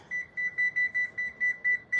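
A kitchen timer being set while baking butter bites and dessert pizza gives about nine quick, evenly spaced high electronic beeps in a row, close and clear, with faint background hum and no speech.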